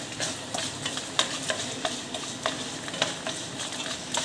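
Peanuts fry in oil in a pan while being stirred, giving a steady close sizzle with frequent sharp scraping and clicking strokes at an irregular rhythm; no one speaks.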